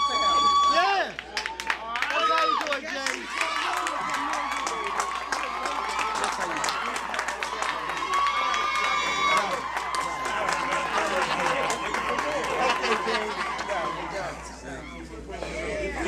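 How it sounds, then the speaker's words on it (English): An audience at a live show applauds and cheers, a steady crowd roar with scattered clapping and shouts running throughout, while someone talks over it. "give him a round of applause again."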